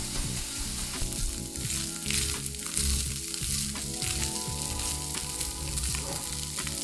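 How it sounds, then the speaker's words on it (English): Minced meat for mapo tofu sautéing in a pan until lightly charred, a loud, dense, continuous sizzle and crackle with steady stirring and scraping, close and without talk. "Continue sautéing until a slight char forms on the surface of the meat in the pan."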